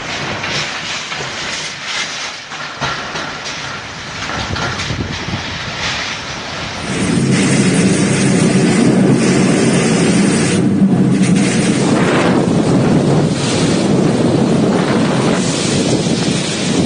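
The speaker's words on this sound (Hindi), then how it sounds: "अलीबाग में उठी इन हवाओं का शोर सुनकर" Powerful winds of Cyclone Nisarga roar continuously in Alibag, Maharashtra, swelling into a louder, denser rush partway through and staying loud with gusting surges.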